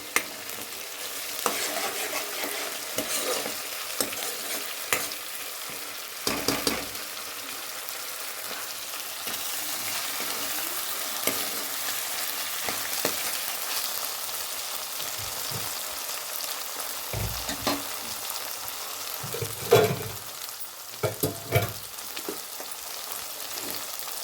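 Browned onions with fresh coriander are stirred in a frying pan under a soft, continuous sizzle, with a spoon scraping and tapping the pan at irregular moments.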